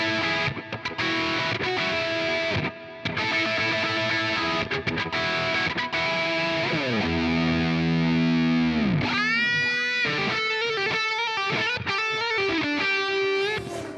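An electric guitar played through the GigFast Light iPad amp app with heavy distortion, chugging sustained chords and muted stabs, then bending into sliding, ringing lead notes, loud and close with no talking.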